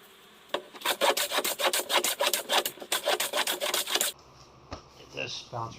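A No. 5 hand plane makes about a dozen rapid rhythmic rasping strokes along a wood board, each a close, loud shaving swish, then stops and a few soft handling knocks follow.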